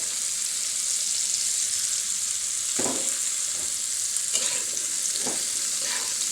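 Chopped onions sizzle in a little hot oil in a pan already holding garlic, potatoes and chillies for jhuri alu bhorta, a steady close hiss broken by a few soft stirring scrapes.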